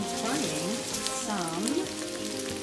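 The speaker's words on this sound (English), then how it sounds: "I'm giving them a quick fry up with some olive oil" Quartered Brussels sprouts, frozen then microwaved, sizzle in olive oil in a frying pan, a steady close hiss with a faint tonal hum running underneath.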